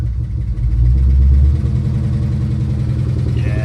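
1967 Dodge Coronet 500 big block V8 running nearby with a loud, deep, steady rumble, swelling briefly early on before settling into a noisy idle.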